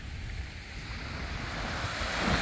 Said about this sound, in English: There be the ocean.